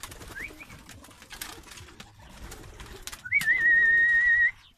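Pigeons outside give a short call, then a sustained wavering coo near the end, over faint background noise and distant movement.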